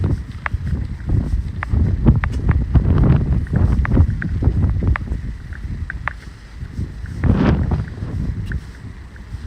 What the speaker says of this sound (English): hear the wind now. Of course, by the river, it's very windy.